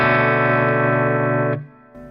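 One distorted, effect-heavy electric guitar chord from a song's chorus rings out loud and sustained, then is choked off, followed by a brief quieter note near the end.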